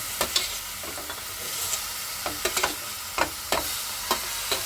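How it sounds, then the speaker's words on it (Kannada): Grated beetroot tipped into a hot pan, with a steady frying sizzle beneath a series of short scraping stirs that come in irregular bursts, close by, with no voices. "ಈಗ ಬೀಟ್ರೋಟ್ ಏನು ತುರಿದಿಟ್ಕೊಂಡಿದ್ದೀವಿ ನಾವು ಅದನ್ನು ಹಾಕ್ಕೊಳ್ತೀನಿ."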